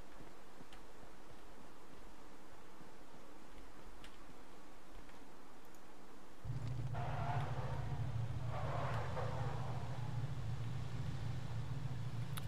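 A vehicle engine in PUBG, played on an emulator, starts up partway through and drones steadily, with rough revving bursts and rustling over a faint background hum.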